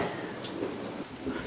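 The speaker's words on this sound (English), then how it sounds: "The wind is blowing. It's raining." Night rain in Juneau during windy weather, a steady dense hiss of falling drops close by, heard alone over a short stretch.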